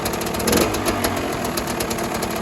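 A KTM 200 two-stroke dirt bike engine warming up with a properly venting exhaust, idling in a steady, close, continuous buzzing drone with a slight crackling pulse and no voices.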